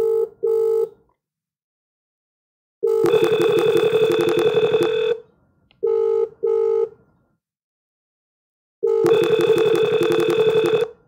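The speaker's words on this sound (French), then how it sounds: "On me dit que ça sonne sur le téléphone de Rama." A telephone rings in loud, tonal bursts: a short double ring, then long rings separated by silences, with no talking.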